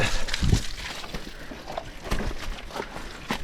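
Mountain bike splashing through a creek crossing on a blue trail in Parklands, New Zealand: broadband water sloshing and spray with knocks and rattles, loud and close, including a heavy splash around the half-second mark.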